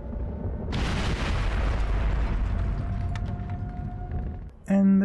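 Grenade explosion in SOCOM 4 on PlayStation Move, a sudden loud boom with a long rumbling roar that slowly fades, followed by a brief tonal sound at the end.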